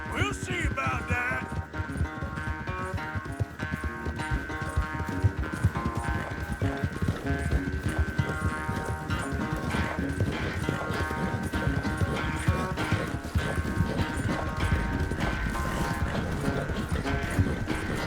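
A horse gallops in the video game Red Dead Redemption 2, rapid rhythmic hoofbeats running steadily under game music with sustained tones, moderately loud throughout.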